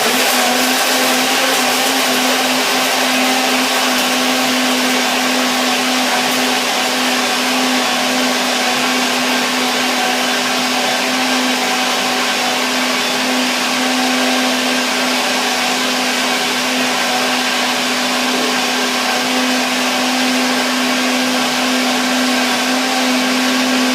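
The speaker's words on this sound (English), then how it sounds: "Now I am blend and make the mixer dance" A blender whirs steadily as it mixes a basic salad dressing, a loud continuous motor drone with a strong steady hum that runs unbroken from start to finish with no voices.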